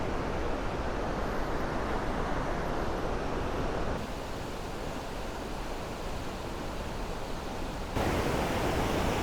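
Iguazu Falls waterfall in Argentina, a steady broadband roar of rushing water that fills the whole clip, constant and loud with a slight shift in level partway through, no voices.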